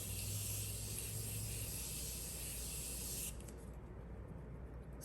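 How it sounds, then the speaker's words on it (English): A long continuous hiss from a makeup setting spray bottle, close and steady for about three seconds, then stopping abruptly into quiet. "I'm gonna put some more of the continuous setting spray."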